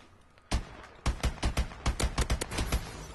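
Rapid bursts of gunfire from an Eclipse Elite gun in Call of Duty: Advanced Warfare, about a dozen sharp loud shots in an uneven rhythm after a brief quiet start, with no talking.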